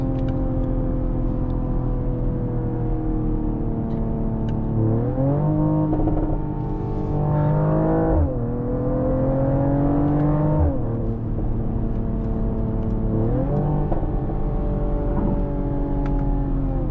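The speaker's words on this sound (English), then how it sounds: "Can you hear the exhaust?" A 2025 Mercedes-AMG GLE 53 Coupe SUV's deep exhaust drones steadily as it accelerates, rising in pitch through several gear shifts, loud and close throughout.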